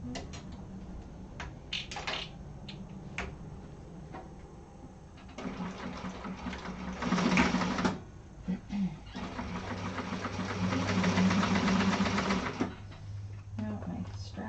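A sewing machine stitches a handbag lining in bursts of steady mechanical whirring, separated by pauses filled with handling noises, while a person talks nearby.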